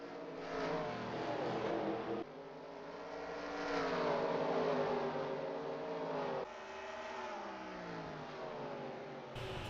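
Stock cars in a NASCAR-style racing video game roar past on the track one after another, engines droning loudly with rising and falling pitch as each car goes by, steady and continuous with no talk.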